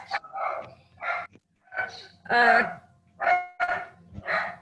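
A dog barks repeatedly in a home while a student attends an online class, sharp yips and barks recurring in quick bursts across the clip, close to the microphone.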